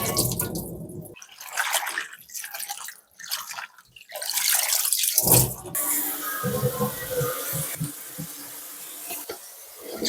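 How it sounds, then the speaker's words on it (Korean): Salted young radish greens (yeolmu) are washed gently by hand in water, with close, irregular splashing and sloshing, soft drips and rinsing sounds continuing throughout. "열무를 씻을 때는 살살 씻어주세요."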